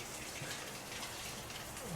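Hotel rain shower head in Da Lat running at strong pressure, a steady dense hiss of falling water that fills the whole moment without letup.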